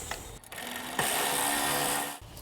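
A 10 mm side bolt is run down on a 2006-2009 Toyota Prius water control valve, giving a close, continuous mechanical whirring that briefly pauses, then resumes louder and steady.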